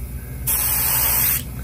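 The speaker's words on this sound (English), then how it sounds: "I'm just kind of moving the airbrush up and down." An airbrush hisses in one steady burst of about a second as it sprays paint onto a custom trout net, cutting in and out cleanly over a low background hum.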